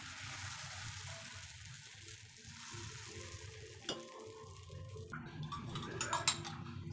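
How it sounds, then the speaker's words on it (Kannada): Dosa batter being spread on a hot griddle for masala dosa, giving a soft, steady sizzle with light scraping and clinks of a utensil, growing busier with small taps near the end. "ಈಗ ಕಾವಲಿ ಮೇಲೆ ದೋಸೆ ಹಾಕ್ತಾ ಇದ್ದೀನಿ"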